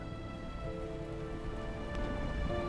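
Steady rain falls outside, a dense continuous patter on surfaces that stays even and fairly loud throughout with no speech over it.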